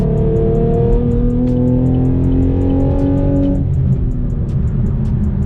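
Chevrolet Camaro SS, fifth generation, with a three-inch muffler delete and X pipe, accelerating with a loud, steady engine drone that climbs in pitch, then drops back and builds again near the end, close up.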